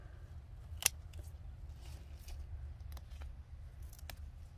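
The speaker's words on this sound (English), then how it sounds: "Just gonna cut it off right there." Snip of scissors cutting a chili pepper plant stem outdoors, one crisp close click followed by a few fainter rustles over low background rumble.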